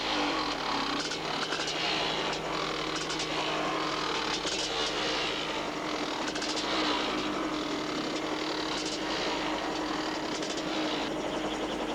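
A stunt motorcycle engine revs at a ramp-jump stunt event, a loud, steady, continuous mechanical roar that holds without letting up for the whole stretch.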